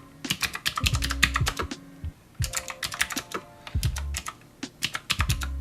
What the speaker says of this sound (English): Let's start the sound test with the blue switches.